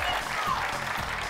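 A studio audience at a game show claps in a brief, steady burst of applause that fills the room.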